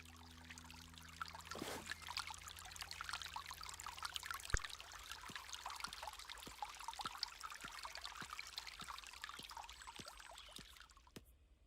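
Water pours steadily from a watering can onto a sunflower in a video game, a soft continuous trickle with a few faint drips and light clicks, and no talking.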